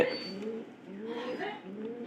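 Domestic pigeons coo in a repeated low, throaty rhythm, several soft phrases rolling one after another close by.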